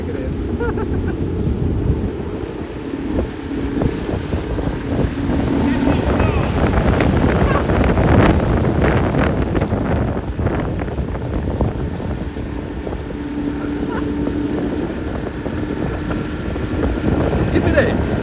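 A motorboat passes out on open water, its engine a steady droning hum that swells and eases, mixed with wind buffeting the microphone and the wash of the water.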